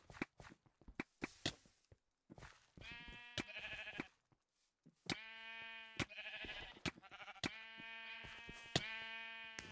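Sheep in a Minecraft Mineplex mini game give several clear, loud, synthetic-sounding bleats in bursts, with blocky footsteps and game clicks between them and no talk.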